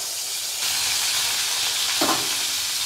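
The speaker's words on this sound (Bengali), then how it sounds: "পটলগুলোও তুলে দিয়েছি, এই যে প্রায় ভাজা হয়ে এসছে" Pointed gourd (potol) slices fry in a pan with a steady, loud sizzling hiss and a brief stirring scrape near the end, no talking.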